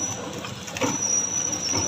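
A chocolate bar tikki packing machine runs at higher speed, giving a steady, fairly faint mechanical whir with a thin, sustained whine and light rhythmic clatter.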